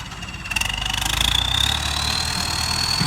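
Ford 6610 Turbo tractor engine running steadily close by, a continuous low rumble with a faint high whine rising slightly over a few seconds, no talk.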